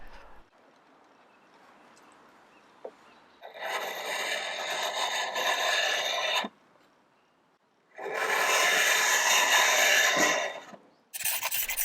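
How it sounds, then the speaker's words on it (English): Old paint being scraped off a piece during restoration, two long bursts of steady rasping strokes, close and loud, with a quieter pause between and a third burst starting at the end. "this paint did not want to come off without a fight, so after scraping most of it off"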